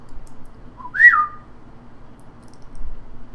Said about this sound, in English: you hear a whistle.